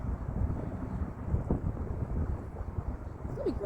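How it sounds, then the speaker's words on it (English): Wind blowing outdoors, buffeting the microphone with low rumbling gusts that rise and fall unevenly, loud and close, with a brief whistling tone near the end. "It's kind of windy out here today"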